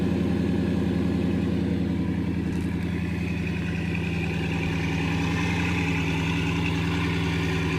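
A hypercar engine idles just after its start button is pressed, giving a steady, moderately loud low hum with a rhythmic mechanical pulse that runs unbroken for several seconds, with no speech over it.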